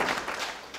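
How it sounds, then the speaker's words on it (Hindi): An audience claps for the Minority Riwa Foundation at a literacy campaign event in Basar, a brief burst of steady, dense applause. "एक बार ताली बजा दीजिए मिनोरिटी रिवा फाउंडेशन के लिए"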